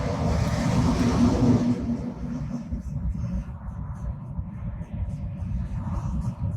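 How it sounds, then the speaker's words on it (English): Loud cars pass nearby as a broad rumbling roar that swells in the first two seconds and then fades into a lower, steadier drone, with no voices. "I'm just near a place where really loud cars go by"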